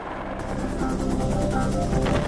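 A Philippine Air Force Bell 412 EPX helicopter sounds close and loud, its rotor beating in a steady rapid chop with a mechanical roar underneath.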